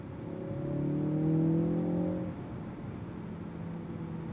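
A turbocharged Ford Focus RS engine swells as it accelerates, a rising whine and turbo whistle building over a couple of seconds, then easing off into a steadier, quieter drive hum.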